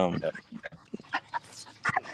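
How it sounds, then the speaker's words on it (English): A dog makes a few short yips and whimpers close by indoors, mixed in with a person talking. "sorry, my dog's right here."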